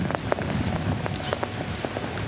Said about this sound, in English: rain steadily picking up. A little bit heavier than what it was last time we checked in here from Naples